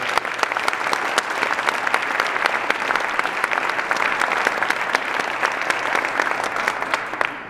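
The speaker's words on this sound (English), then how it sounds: "Please join me in applauding them." An audience at a state humanities awards ceremony in Montana applauds the Humanities Montana staff with dense, sustained clapping that stays loud and even for the whole stretch, with no voices over it.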